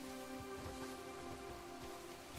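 In-game rain in Crimson Desert patters as a quiet, steady hiss of drops falling on surfaces, with a faint sustained tonal hum running beneath it and no voices.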